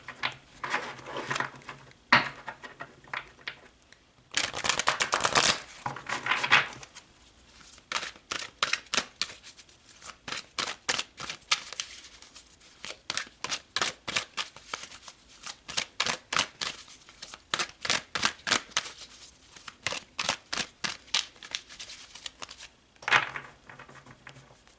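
Tarot cards shuffled by hand in a quiet room, a long run of crisp, rapid riffling flutters and slaps in steady bursts, close and clear with no talking.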